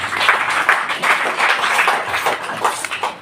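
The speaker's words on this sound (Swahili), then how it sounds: "Pigie Bwana makofi." A church congregation applauds after the preacher calls on them to clap for the Lord, with dense, steady clapping filling the whole stretch and no clear speech over it.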